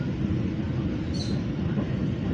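A heavy Babaranjang coal freight train rumbles past a station platform in Lampung, Indonesia, a low continuous roar with a brief metallic squeal partway through.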